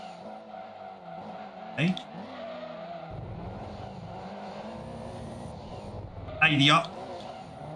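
Race car engine of a Toyota GT-One in Gran Turismo 2 on PS1, a steady drone with two sharp tire-skid bursts near the start and the end, under excited talking throughout.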